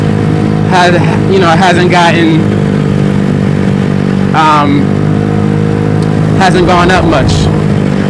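A Venom X18 (DF50SST) scooter-style motorcycle with modified roller weights on a test ride, its steady droning engine running loud throughout while someone talks over it.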